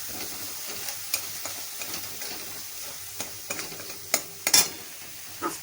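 Turmeric-spiced food being stirred in a pan for a Bengali bori dish, a low, steady sizzle broken by light scraping clicks and a few louder utensil knocks toward the end.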